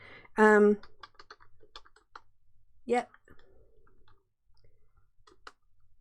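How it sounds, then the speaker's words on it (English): Someone types on a computer keyboard in public, a quiet run of irregular clicking keystrokes with brief pauses, broken by two short spoken bursts from a person nearby. "I hate typing in public."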